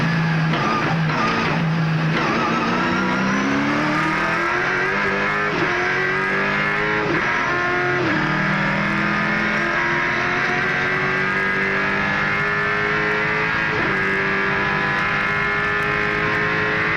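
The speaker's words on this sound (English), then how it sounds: "Let's have a listen to the Holden Special Vehicles backed Young Lions Commodore." A Holden Special Vehicles-backed Young Lions Holden Commodore touring car at the 1997 Sandown 500 in slippery conditions; its engine drones loudly and steadily with rising and falling pitch as it passes and shifts, with no talk.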